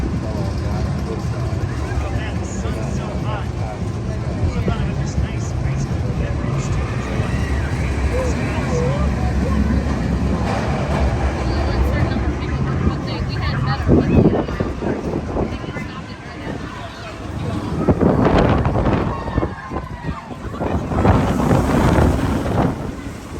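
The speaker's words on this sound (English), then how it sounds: "Just had a pretty good ride on Rapterra in the front row on the left seat." Loud rushing wind buffets the microphone throughout a front-row, left-seat ride on the Rapterra roller coaster at Kings Dominion, with swells of turbulent noise and bursts near the end, and voices shouting faintly under the roar.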